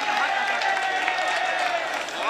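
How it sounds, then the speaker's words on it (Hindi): Audience clapping at an Urdu poetry recital (mushaira), a steady wash of hands applauding throughout with a faint tonal voice or sound running underneath. "चच्चा के लिए एक बार ताली बजा दीजिए।"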